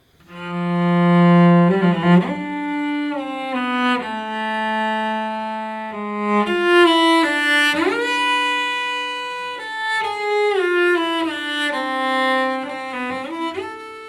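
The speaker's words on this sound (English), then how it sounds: "the portamento can be notated with a grace note" A bowed string instrument plays a slow melody, sliding between notes with quick grace-note portamento glides. It is played solo, with a clear, sustained tone.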